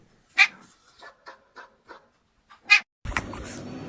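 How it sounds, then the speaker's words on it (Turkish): Two sharp, high cat-like calls with a series of softer chirping sounds between them, close and clear, then a sudden burst of noisy rustling. "Avlayan kedi."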